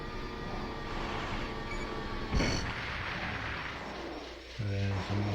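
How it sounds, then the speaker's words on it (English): A single sharp cannon blast bursts out in the PlayStation mech game Armored Core, cutting through a constant mechanical hum, followed shortly by a few short electronic tones. "There's a cannon."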